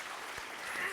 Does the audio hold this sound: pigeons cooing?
no